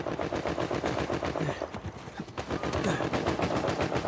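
Rapid automatic gunfire rattles in dense bursts during an Uncharted 4 multiplayer match, loud and continuous with brief lulls, game effects filling the background.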